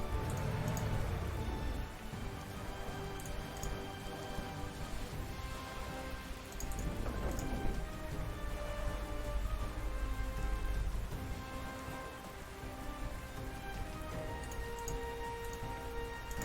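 Steady rain hisses evenly throughout a Panzer Corps 2 strategy game, a dense constant wash of falling drops with no voices over it.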